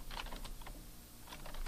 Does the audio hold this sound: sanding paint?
no